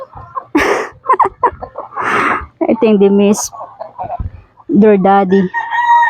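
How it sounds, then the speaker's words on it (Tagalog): Chickens and a rooster cluck and crow loudly and close by on a farm with loose pens, several calls overlapping with people talking nearby. "So that's the update of our chickens."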